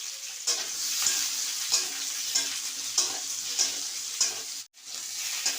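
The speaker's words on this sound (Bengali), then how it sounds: "ততক্ষণ আমরা একটা কড়াইতে তেল দিয়ে ক্যাপসিকামগুলোকে ভেজে নিই।" Capsicums fry in oil in a kadai with a close, continuous sizzle, broken by regular scraping stirs about every second, and a brief dropout near the end before the frying resumes.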